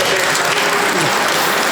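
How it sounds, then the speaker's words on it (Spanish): Loud, steady applause from wedding guests fills the whole moment as the couple exits, a dense continuous wash of clapping with no pauses. "Fuertes palmas para la salida."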